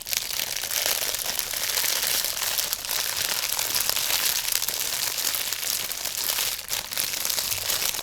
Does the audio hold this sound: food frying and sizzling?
no